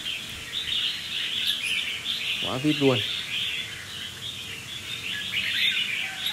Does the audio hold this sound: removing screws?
no